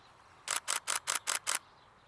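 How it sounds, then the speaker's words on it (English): Six sharp, rapid Nikon D7200 DSLR shutter clicks in an even burst, loud and close against near silence. "Listen to the shutter sound on this."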